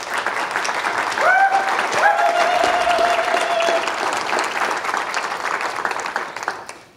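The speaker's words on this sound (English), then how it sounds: "Bruchac a round of applause, please" A hall audience at the 2015 American Indian Festival of Words in Tulsa gives a sustained round of applause for writer Joseph Bruchac, loud and continuous, fading out near the end, with a few voices calling over the clapping.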